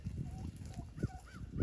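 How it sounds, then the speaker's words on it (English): Turkeys calling close by outdoors, a few short honking, warbling calls spaced over a quiet background with no talk. "Got some turkeys trying to mess with the footage."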